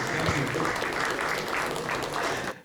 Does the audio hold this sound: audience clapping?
yes